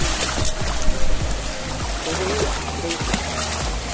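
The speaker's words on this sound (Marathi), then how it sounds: "पाऊस पडतोय" Heavy rain falling at night during the first rains of the season, a dense continuous wash of noise close around the listener, with some voices faintly under it.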